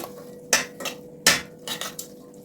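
Onion, carrot and garlic stirred in a pan, with a utensil scraping and knocking against the metal in a few sharp clatters and softer follow-up scrapes, fairly close with no talk.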